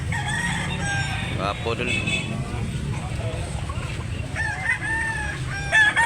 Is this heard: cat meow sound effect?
no